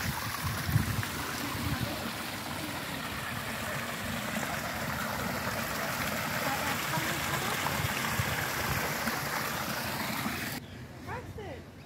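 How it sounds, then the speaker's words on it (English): Waterfall in a garden at Carrick Hill pours steadily, a continuous broadband rush and splash running under the whole clip with occasional voices nearby, before the sound drops away abruptly near the end. "Absolutely gorgeous waterfall there."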